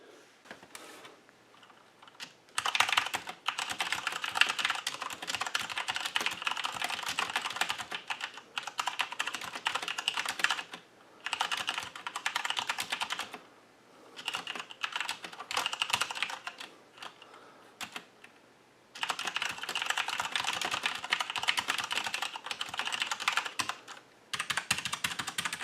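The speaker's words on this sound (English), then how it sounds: "we're going to do a quick little sound test, just so you guys can get a feel for what it sounds like" Rapid typing on a Corsair K95 RGB mechanical keyboard with Cherry MX Brown switches, in bursts separated by brief pauses, with soft, muted key clicks close up.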